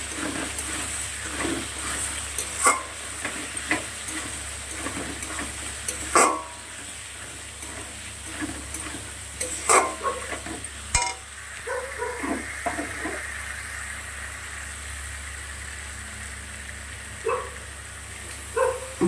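Spices with turmeric and chili powder are fried and stirred in a pan for a Bengali dhoka dish, a soft ongoing sizzle broken by irregular scraping and clanking of a spatula, with a dog barking now and then.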